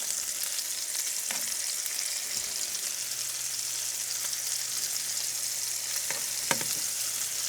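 Pork loin pieces fry in a pan, giving a steady close sizzle with a few sharp clinks and stirring scrapes near the end.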